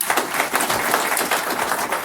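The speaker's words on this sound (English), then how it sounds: "give yourselves a really big round of applause" Dense applause from a large audience at a police chief's swearing-in ceremony, steady and loud, filling the room without a break.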